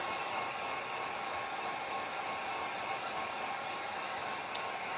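A hair dryer drying paint on a pumpkin, blowing a steady, close, continuous airy whoosh with no change in level throughout.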